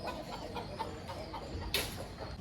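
Aseel rooster on a farm in Nellore clucking in short, low bursts amid steady outdoor background noise, with one brief louder rustle partway through.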